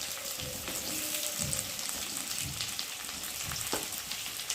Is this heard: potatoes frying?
yes